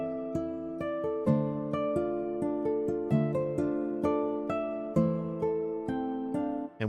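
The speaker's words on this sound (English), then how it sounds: "So without any effects, the guitar sounds like this." A dry, unprocessed guitar sample plays a plucked melodic pattern with overlapping notes, clean and close with steady attacks, alone throughout.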